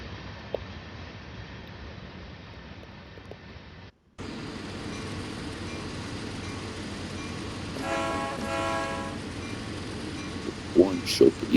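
A CSX freight train rumbles past with a steady, broad roar. Its horn sounds once, clear but not loud, in a brief blast of about a second, followed by a few clanking knocks near the end.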